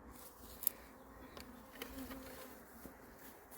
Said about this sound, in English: But you can see those bees are pretty chilled out.